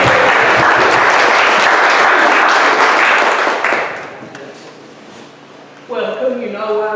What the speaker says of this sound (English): Yay, Giselle, clap.